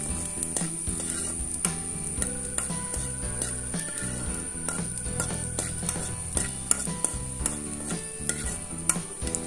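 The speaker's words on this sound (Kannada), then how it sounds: "ಈಗ ಸ್ವಲ್ಪ ಎಣ್ಣೆ ಹಾಕೊಂಡು ಅದಕ್ಕೆ ಕಟ್ ಮಾಡಿ ಇಟ್ಕೊಂಡಿರುವಂತ ಬೆಳ್ಳುಳ್ಳಿಯನ್ನು ಹಾಕೊಂತಾ ಇದ್ದೇನೆ" Chopped garlic frying in oil in a pan, a soft crackling sizzle with frequent sharp clicks of stirring against the pan and a steady high-pitched tone in the background.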